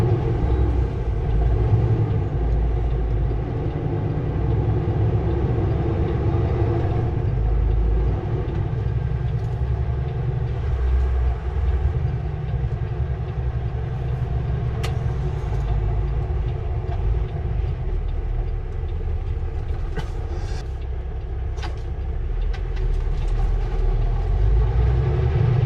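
A train rolls past in Abbotsford, a steady low rumble and clatter of cars that holds for the whole stretch, with a few sharp squeals near the end.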